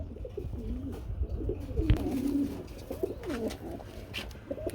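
Pigeons for sale coo in distinct throaty, rolling calls, a few repeated phrases from nearby birds with short gaps between them and light background noise.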